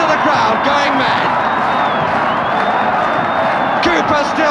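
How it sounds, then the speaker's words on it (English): Football crowd at a 1970-71 Leeds v West Bromwich Albion match roaring after a disputed goal, a loud, continuous wall of cheering and shouting from a packed stadium with whistles and whoops rising through it. "Listen to the crowd going mad."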